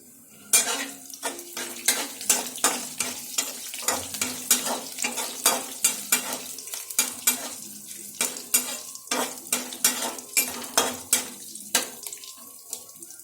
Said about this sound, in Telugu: ఇవైతే ముందు వేయించుకుందాం.